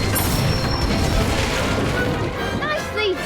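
An Incendio fire spell in the video game Hogwarts Legacy bursts with crashing, booming impacts over a continuous dense roar, while a voice calls out over it.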